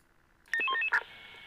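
Ambulance dispatch alarm tone from the Emergency 4 emergency-services game, a short bright electronic sequence of stepped beeping tones followed by a louder final burst, clean and close with no talk.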